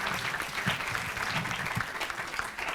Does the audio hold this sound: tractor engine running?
no